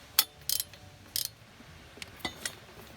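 A ratchet with an extension tightens the bolts on a coolant flange of a 1.8T Volkswagen/Audi engine, giving a few quick, quiet bursts of clicking spread over a few seconds with no voices.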